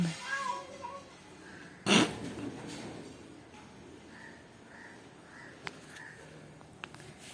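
A cat meowing indoors, a few short, faint mews in a row after a person speaks at the start, with scattered small knocks and quiet between.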